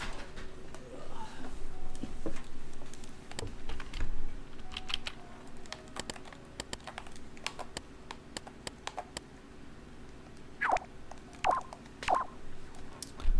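Computer keyboard typing to enter a short label, a scattered run of light clicks and taps at moderate level over a steady background hum, with a few brighter keystrokes near the end.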